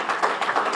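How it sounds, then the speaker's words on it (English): Audience clapping at a mayor's fellowship luncheon, a brief burst of moderately soft, dense applause. "So give Caring for Others a nice round of applause"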